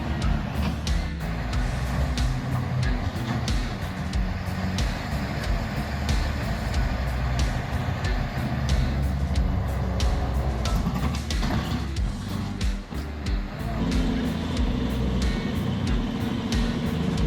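A 120-horsepower TT4 forestry tractor grinds through mud, its engine a steady heavy rumble with clanks and knocks, moderately distant and continuous without talk.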